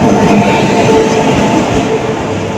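Loud, continuous rumble of the Radhikapur–Kolkata Express rolling close by as it arrives at a platform, with a steady rattling drone throughout and no voices.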